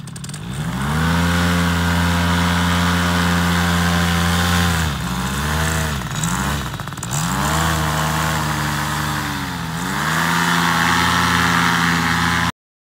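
A paramotor engine running after its carburetor low screw was adjusted, loud and close, with a steady buzzing drone that revs down and back up several times before cutting off abruptly, with no voices.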